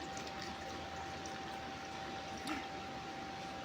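Water poured into a sourdough starter jar while weighing out 60 grams on a kitchen scale, a steady close trickle running throughout with a brief splash near the end.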